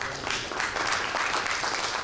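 An audience at a medical talk about a comprehensive MS center applauds, a dense, steady patter of many clapping hands filling the whole stretch.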